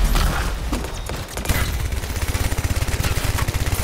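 A gun turret in the video game Anthem fires a rapid string of loud shots, first as a dense burst and then settling into a fast, regular rattle of evenly spaced blasts.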